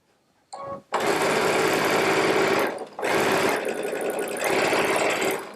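Baby Lock Solaris sewing machine stitching with a 1/4-inch piecing foot, close and steady mechanical whirring in two long runs broken by a short pause, no talking.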